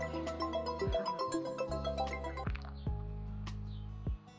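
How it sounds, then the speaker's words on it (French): A mobile phone ringtone plays a repeating chiming melody of bright tonal notes, fairly close and clear, for several seconds before cutting off. "Aïe, mon téléphone sonne."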